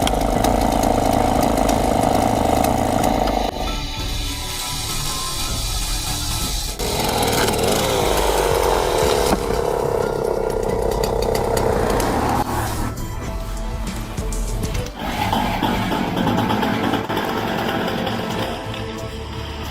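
Chainsaw running while a tree is cut, its steady mid-pitched engine note rising and dropping in load changes across about twenty seconds, loud and continuous with no talk.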